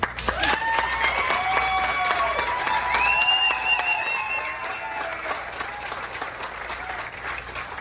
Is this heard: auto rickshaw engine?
no